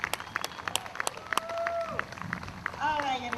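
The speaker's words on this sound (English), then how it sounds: "Give yourself a round of applause." Scattered hand claps and a few cheers from an outdoor rally crowd, light and uneven, with voices and faint whistles mixed in.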